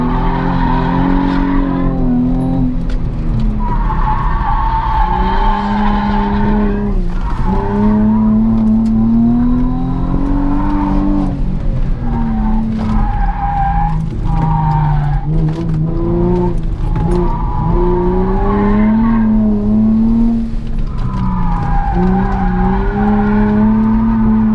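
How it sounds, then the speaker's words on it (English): A Nissan 350Z slides around a race track, its tires squealing in long wavering tones over the loud, revving engine, which rises and falls through repeated drifts with no talking. "Which makes it even easier to slide the car."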